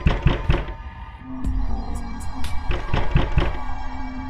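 Several dull knocks on a door in two short bursts, near and fairly loud, with a steady low tone between them in a tense drama scene.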